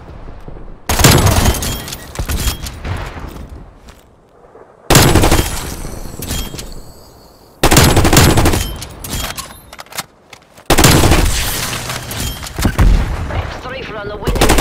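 Sentry turret gunfire in a multiplayer shooter video game: four loud, sustained bursts of rapid automatic fire, each lasting a few seconds, separated by short quiet gaps.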